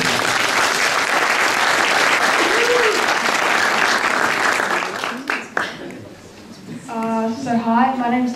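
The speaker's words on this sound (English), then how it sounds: "will everyone give him a big hand of applause?" An audience at a community scams forum gives sustained loud applause that fades out after several seconds, followed by a short quieter stretch.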